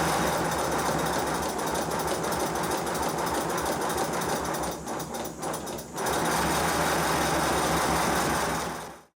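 Model 5 inch gauge Modelworks pannier tank locomotive runs with a busy, fast mechanical chatter of rods and valve gear. The sound is close and constant, dips briefly midway, then cuts off at the end.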